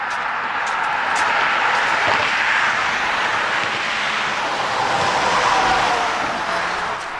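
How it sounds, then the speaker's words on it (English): Steady highway traffic rushes past near a hiking trail, a continuous broadband roar with passing vehicles swelling and fading, heard from a short distance. "let's get away from this traffic noise"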